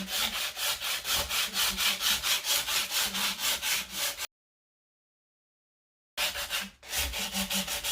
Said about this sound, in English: this is a pretty thick sandpaper, so I'm going to do very lightly. And I'm going to do it again at the grain of the wood